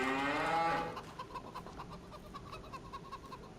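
Cattle mooing in Farming Simulator 25, one drawn-out close moo followed by softer clucking chickens and faint farmyard animal sounds.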